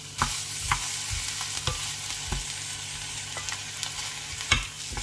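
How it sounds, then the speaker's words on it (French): Chopped onion sizzles in olive oil in a frying pan, with a soft steady frying hiss broken by several sharp scraping knocks from a stirring utensil. The sound is close and moderate in volume, with no one talking. "je vais faire revenir l'oignon en premier, puis je vais ajouter les champignons"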